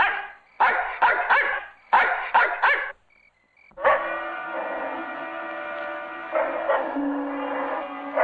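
A dog barks in quick bursts of several sharp barks close by, goes briefly silent, then lets out a sustained whining howl that carries on to the end, on a military base setting.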